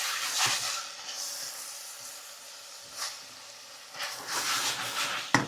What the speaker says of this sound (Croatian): I kada mešaš, čuješ da je to prženje